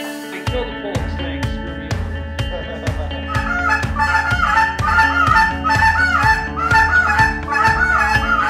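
Geese honk repeatedly in a busy flock at a goose-hunting camp in Michigan's Thumb region, the calls overlapping near and far over a steady rhythmic low thumping, with no talking.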